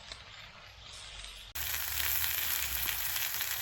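A big steak frying over a campfire gives a quiet low crackle, then jumps abruptly into a loud, bright, continuous sizzle that keeps hissing steadily to the end.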